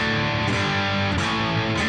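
Distorted electric guitar through a Headrush unit's Mesa M-2 Lead amp model, thick sustained chords ringing loud and continuous with small pick accents, no talking.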